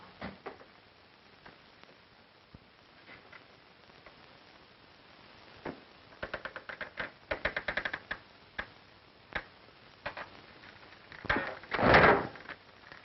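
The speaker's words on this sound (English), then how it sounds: "Be careful how you open the door, Joe." Old wooden door in a 1930s western setting, handled with a few light knocks and clicks, then a rattling run of latch and wood sounds and a louder creaking swing near the end; no voices over it.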